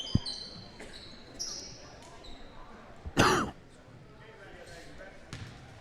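A single sharp cough sounds near the middle, close and loud, over a quiet background of distant crowd noise and a faint thud at a junior varsity boys' basketball game.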